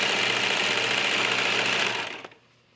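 A 3- or 4-thread overlock serger runs steadily, stitching and trimming a stretchy cuff onto a sleeve; the close, even motor whir holds for about two seconds and then stops abruptly.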